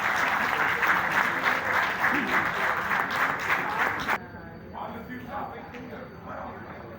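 An audience at an arts council event in Karachi claps loudly and continuously, a dense burst of applause that drops off sharply midway into softer scattered clapping, with speech also present.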